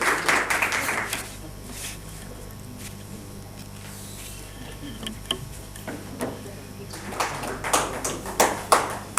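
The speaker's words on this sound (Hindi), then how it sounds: "एक बार ज़ोरदार तालियां" An audience at a National Youth Day ceremony claps for an art festival award winner, a burst of clapping at the start that fades to near quiet, then picks up again in scattered rounds toward the end.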